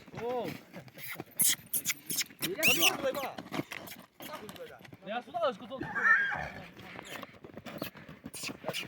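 A horse neighs repeatedly in shrill, wavering bursts, near and loud, mixed with hoof clatter and people talking nearby, in the village of Kosmach.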